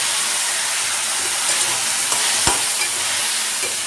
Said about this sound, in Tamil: எல்லாமே சேர்ந்து நல்லா தக்காளி மேஷ் ஆகணும், அது வரைக்கும் வதக்கிக்கலாம்